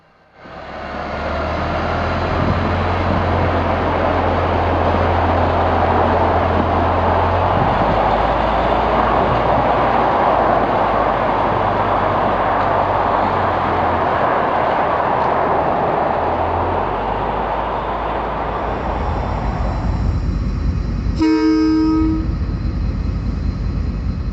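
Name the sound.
diesel locomotive hauling passenger train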